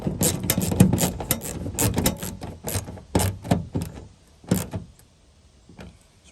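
Fasteners on a Toyota Tacoma rear differential breather are snugged down with a ratchet, giving a series of close, irregular clicking bursts that thin out toward the end.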